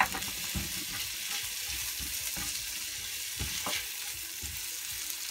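Tomatoes go into a skillet of sautéing vegetables, and a steady close frying sizzle carries on throughout, with soft stirring scrapes and a few louder crackles and bursts.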